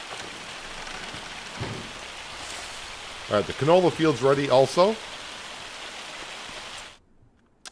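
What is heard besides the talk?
hail falling in video game Farming Simulator 25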